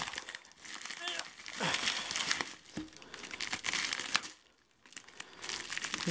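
Bubble wrap packaging from a parcel of winter sneakers crinkles and crackles close by, in sustained bursts with short pauses, while a person talks intermittently.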